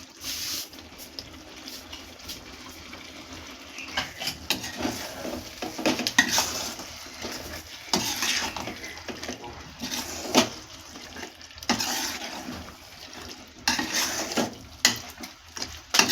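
A spoon stirs fried spice paste into chicken curry in a pan just uncovered, making scraping, clinking strokes over a soft, steady sizzle, with louder bursts coming in irregular waves.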